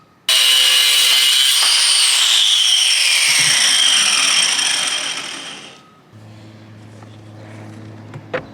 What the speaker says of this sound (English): I'm just gonna eyeball it and cut it with a cutoff wheel here